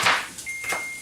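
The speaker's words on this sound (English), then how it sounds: "that is the sound of my oven telling me that it is preheated" A kitchen oven sounds a thin, steady electronic beep to signal it has finished preheating, a single sustained tone lasting about half a second with nearby kitchen clatter and no voices.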